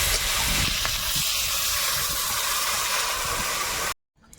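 Water poured into a hot pan of frying beetroot fritters with green chili bursts into a loud, steady steam hiss and sizzle that holds for about four seconds, then cuts off abruptly to near silence.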